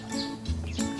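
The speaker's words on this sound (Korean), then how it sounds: "새소리도 들리고요." Birds chirping in a small mountain village in Gangjin, South Jeolla, a few short tweets over a brief moment of outdoor ambience.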